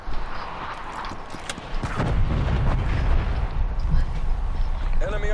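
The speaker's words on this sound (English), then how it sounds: "Artillery inbound." Call of Duty artillery strike: heavy booms and cracking blasts rumble through a dense, noisy multiplayer soundscape, the low thunder swelling midway and continuing as repeated impacts, with game announcer voices in the mix.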